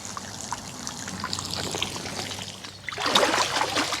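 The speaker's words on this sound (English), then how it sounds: "Now, as you're filling the pond," Water trickles and splashes steadily into a lined garden pond being filled during a restoration, a continuous close pour that grows louder and fuller in the last second.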